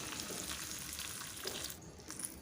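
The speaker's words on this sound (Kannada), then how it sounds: "ಈಗ ಒಗ್ಗರಣೆ ರೆಡಿಯಾಗಿದೆ, ಇದಕ್ಕೆ ಒಗ್ಗರಣೆನೂ ಹಾಕೋತಾ ಇದ್ದೀನಿ." Hot tempering poured onto curd rice mixed with grated carrot gives a brief, faint, continuous sizzle and crackle.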